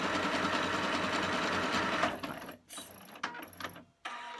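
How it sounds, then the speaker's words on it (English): A Singer 8500Q sewing machine running a rapid, even mechanical whir of stitching for about two seconds, then stopping and starting in short bursts with small clicks and ratcheting sounds, close up with no talk. "It's a very smooth machine when it's sewing."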